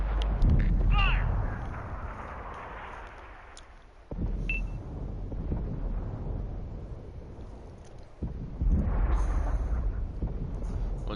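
A tank gun fires in World of Tanks as loud booming reports near 4 and 8 seconds, each followed by a rumbling tail, over a low engine drone with brief tonal blips.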